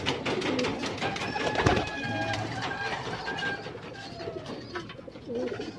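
Pigeons coo softly after being released from their loft, with scattered calls and faint wing movement outdoors at moderate distance, amid low background ambience.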